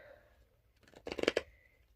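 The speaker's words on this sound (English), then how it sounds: "this deck that I am shuffling right now" A deck of tarot cards is riffled and shuffled in a quiet room, a short burst of crisp flapping clicks near the mic, with faint speech-like tones around it.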